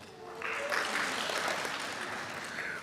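An audience applauds at a faculty convocation, with a dense, steady burst of clapping that holds throughout at a moderate distance.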